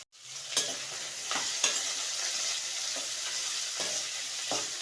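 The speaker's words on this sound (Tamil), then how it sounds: "பொன்னிறமாக வர்றது வரைக்கும் நம்ம வறுத்து எடுத்துக்கலாம், வதக்கிக்கலாம்." Onion, ginger and garlic fry in hot oil for a Kerala-style mutton curry, giving a steady close sizzle broken by several sharp scrapes of a stirring spoon, with no talking.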